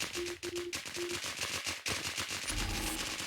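In WarZ, a gun fires rapid bursts of dense, rattling shots that run almost without pause over a loud, steady game background.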